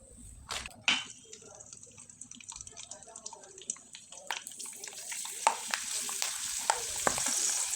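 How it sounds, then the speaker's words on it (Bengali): Rice flour chips frying in hot oil, a soft crackling sizzle with scattered pops and light stirring clicks that grow denser toward the end, close and moderately loud. "আমি আপনাদের কয়েকবার ভেজে দেখিয়ে দিলাম।"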